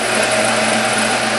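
A Monarch EE 10 x 20 inch tool room lathe spins at speed, giving a steady, loud mechanical whine with a constant hum underneath, heard briefly and without talk.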